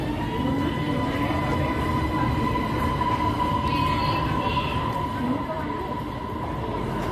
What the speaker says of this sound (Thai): สถานีสนามชัยครับ คนเยอะมาก